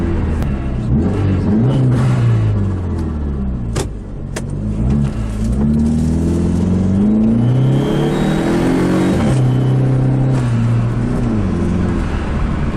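A car engine revs hard again and again, deep rumbling pulses rising and dropping in pitch, loud and up close with no voices.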